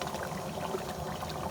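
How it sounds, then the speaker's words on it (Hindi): Water from a glass poured into a pot of kofta cooking on the stove, a steady, close splashing trickle that fills the whole short moment without talk. "अब हम इसमें 1 गिलास पानी डाल देंगे"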